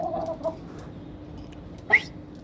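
A rooster on a rooftop gives a couple of short, soft clucks, quiet and close, over low background noise.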